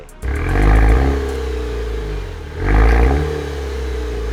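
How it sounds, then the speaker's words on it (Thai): A 2022 Maserati Levante Hybrid SUV starting up: two loud, close engine bursts that flare and then settle into a steady idle rumble. "ฟังเสียงกันดีกว่าว่า สตาร์แล้วเป็นไง"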